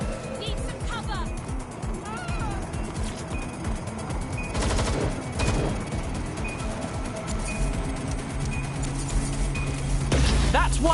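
Rapid video game gunfire rattles in dense, continuous bursts close up, a steady clatter of shots layered with in-game effects and tones, while character voices shout over the shooting.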